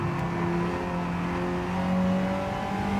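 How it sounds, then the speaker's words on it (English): A race car in the Gran Turismo 7 video game, during online lobby racing, drones with a steady engine tone that shifts pitch partway through as it changes gear. The sound is continuous and moderately loud, with no talking. "I'm going to change gear. You can hear that's a little bit quicker."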